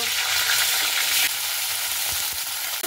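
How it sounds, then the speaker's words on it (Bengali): Cauliflower fries in hot oil in a pan with a loud, steady, hissing sizzle that stays constant throughout, with a few faint low knocks of stirring near the end. "এবার আমি সেই ফুলকপিগুলোকে ভেজে নেব।"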